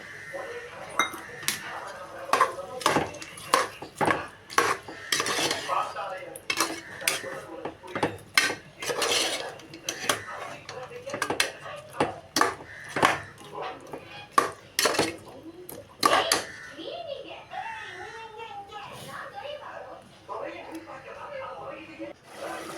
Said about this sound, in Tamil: நல்லா சேர்த்து வதக்குங்க